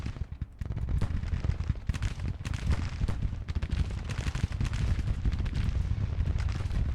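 Artillery fire in the Civil War strategy game Grand Tactician at the battle of Chancellorsville: dense, continuous volleys of booms and crackling gunfire, loud and unbroken throughout.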